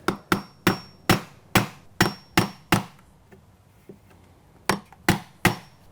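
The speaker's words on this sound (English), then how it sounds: "chisel that out just a little bit" Chisel struck with a hammer to cut a recess in a wooden storm door jamb for an Andersen 400 Series striker plate: sharp, loud taps in a quick run of eight, a pause with faint scraping, then three more blows.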